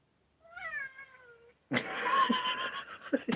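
A pet cat gives a drawn-out rising-then-falling meow indoors, followed by a louder, rougher caterwauling cry that continues with scuffling noise, close to the listener.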